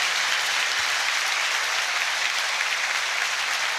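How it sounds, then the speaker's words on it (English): Leicester City football fans in a stadium applauding visiting Sheffield Wednesday supporters, a dense, even wall of crowd clapping that holds steady throughout with no clear speech. "off their seat get the Leicester City fans to applaud them"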